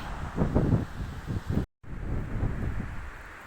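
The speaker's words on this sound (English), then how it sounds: "Quite windy." Steady broadband wind roar buffeting the microphone while cycling in Western Australia, with gusty swells and a brief dropout midway, no voices.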